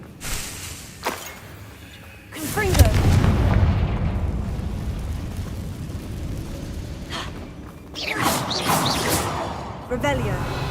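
Confringo blasting spells exploding in Hogwarts Legacy, heavy booming bursts with a sustained rumbling blast tail, loud and close, with a voice speaking over the blasts.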